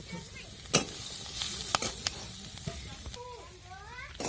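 Peanuts frying in oil in a home kitchen pan for kande pohe, a steady close sizzle with several sharp spoon clinks against the pan as they are stirred, and short chirpy squeaks near the end.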